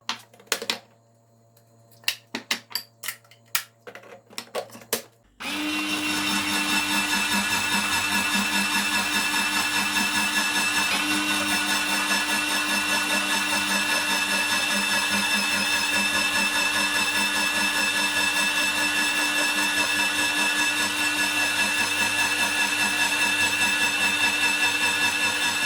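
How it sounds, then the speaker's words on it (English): A Silvercrest SGR 150 electric grater shreds carrot through the red raw shredding cylinder: a few sharp handling clicks and taps, then the motor starts and holds a loud, even whine with constant grinding until the end. "Next, for the carrot, I will be using the red, the raw shredding cylinder."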